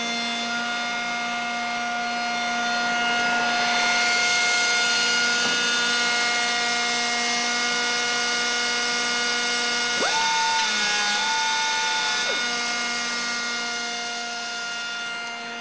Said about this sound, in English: the radius cutter heads as they travel around the panel in the same pass as the edge application cycle.